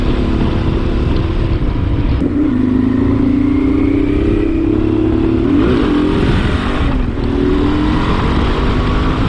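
Honda 600 Transalp motorcycle with a reworked carburetor and new membranes accelerating through the gears, a loud close engine drone whose pitch climbs, drops at shifts and climbs again.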